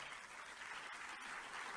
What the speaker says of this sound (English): Also, tepid applause